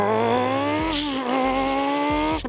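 A voice imitates a Ferrari F430 engine, with a sustained, rising, revving tone that holds steady and then drops off abruptly at the end.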